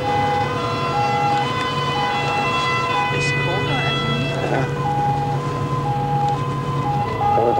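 Emergency vehicle sirens wail continuously as fire engines stand nearby. Several rising and falling and two-tone siren patterns overlap, loud and steady across the whole span, with voices and street noise underneath.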